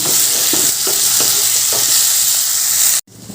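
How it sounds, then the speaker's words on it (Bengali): Potatoes fried in a pan with salt for a banana-flower prawn curry: a continuous bright sizzle with periodic spatula scrapes and stirs, close and loud, stopping suddenly at the end. "নুনটা দিয়ে এবার ভালো করে আলুগুলো ভেজে নেব"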